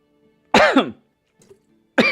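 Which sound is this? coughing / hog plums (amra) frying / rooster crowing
coughing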